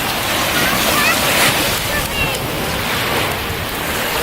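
Lake waves wash steadily onto a beach with a continuous broadband rush of surf, mixed with wind buffeting the microphone; no voices stand out.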